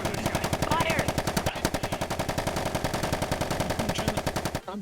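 Sustained rapid gunfire in a VR gang role-play game, a fast, evenly spaced automatic rattle that runs loud and unbroken for several seconds, with a voice breaking in briefly over it.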